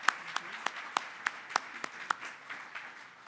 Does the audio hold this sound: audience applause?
yes